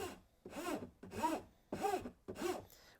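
A hand file is worked along the edge of a wooden sword blade in four slow, separate strokes, each a close, raspy scrape with short pauses between them and no talking.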